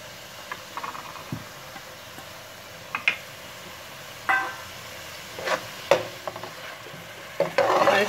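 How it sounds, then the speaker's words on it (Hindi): Green onions hitting a pan of cooked masala, with sporadic stirring scrapes and light sizzling that come in short bursts over quiet background noise. "अब जो है ना हम इसमें ये प्याज शामिल करेंगे, ग्रीन वाली हरी प्याज सबसे पहले शामिल कर देंगे हम।"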